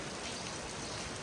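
Rain falls steadily in open country, a dense, even patter heard close by with no voices.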